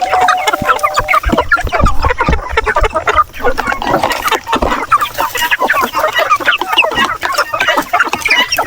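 Hungry native chickens on a farm cluck and chatter continuously in a dense, close flock, with overlapping calls and scratching throughout and no talk.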